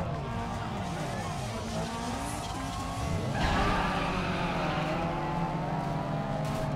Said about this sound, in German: Hier den ersten Drift.